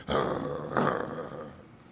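A man gives a rough, throaty DMX-style growl, voicing an imitation of a snarling dog in a drawn-out rasp that rises, swells again and fades.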